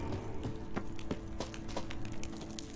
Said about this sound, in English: Kelpie. Another horse.